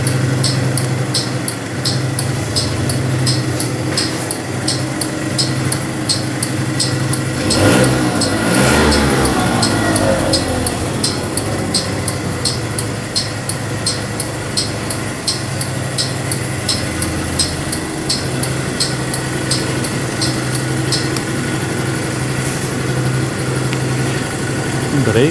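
A Keeway F-Act NKD motorcycle engine idling steadily close up at the exhaust pipe, a low rhythmic exhaust throb with a fast ticking pulse, briefly swelling as if revved midway.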